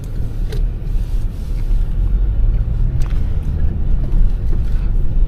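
Car pulling away from a stop in first gear on a driving test route in Stoke on Trent, UK, with a steady low engine rumble heard from inside the cabin.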